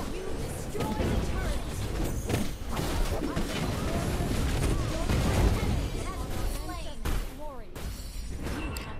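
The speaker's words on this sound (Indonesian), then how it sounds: "Tembakan turret." Turret shots fire amid dense Mobile Legends Bang Bang game combat, with repeated bursts and impacts layered over busy effects and ongoing talk from players throughout.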